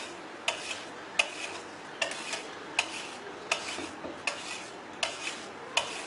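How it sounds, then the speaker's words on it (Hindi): A spoon stirring cream into custard for trifle in a bowl, producing quiet, regular clinks and scrapes against the dish roughly every half second, close and faint with no talk. "अच्छे तरीके से इसे मिक्स कर लेते हैं।"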